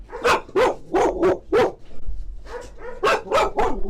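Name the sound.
dogs barking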